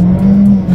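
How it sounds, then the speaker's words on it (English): A turbocharged 2019 Jeep Renegade engine accelerates, a steady loud drone with a strong low tone that holds through the short burst, close and unbroken, with no talk over it. "Let's do a quick little acceleration and see how quickly we can get this 2019 Renegade here up to speed."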